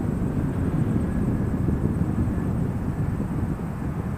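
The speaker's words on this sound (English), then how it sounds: "we've got 542 ready for his takeoff roll" An airliner in black livery starts its takeoff roll at Christchurch Airport, a steady, loud, low jet roar with wind buffeting the microphone and no talk.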